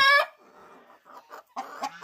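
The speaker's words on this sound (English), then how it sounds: "that's a proper Chanticleer rooster" A Chanticleer rooster gives a loud, close squawk followed by softer, broken clucks and a final louder burst of calls, all within a couple of seconds and with no voice.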